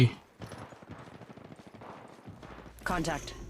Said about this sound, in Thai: ไอ้เสียงปืนเสียงปืนเสียงปืน ตามเสียงนั้นไป